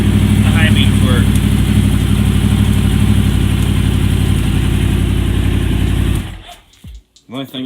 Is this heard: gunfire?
no